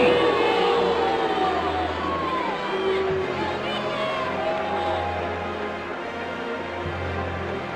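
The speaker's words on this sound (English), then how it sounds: "The crowd seem very generic in terms of their noise, the things that they say." Generic arena crowd noise from the AEW Fight Forever wrestling video game, a steady wash of cheering, whooping and babble that holds throughout with a few shouts standing out, loud and continuous.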